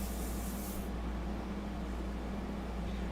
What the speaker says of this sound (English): your initial spray should always be on test paper